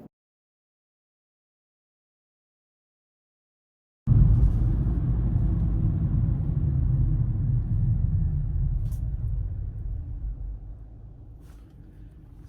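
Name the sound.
Kia Forte car driving, interior rumble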